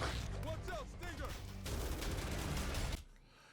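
Explosion of an Exploder creature in the video game Back 4 Blood, a dense burst of blasts and gunfire-like crackle amid chaotic game noise, cutting off sharply near the end.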